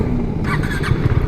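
A KTM motorcycle engine running nearby, a low rumbling drone with a brief rise in pitch partway through.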